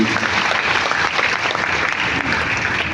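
A church congregation at a Christmas Eve service claps together, a dense, even burst of applause filling the hall with no voices standing out.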